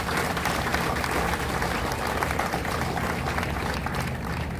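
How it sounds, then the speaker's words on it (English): An outdoor audience at a Memorial Day ceremony in a city cemetery in Laredo claps in sustained, even applause, moderately distant and continuous for several seconds. "May I have a round of applause for that?"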